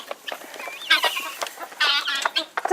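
A rooster clucks and makes short throaty calls nearby, a few bursts in quick succession.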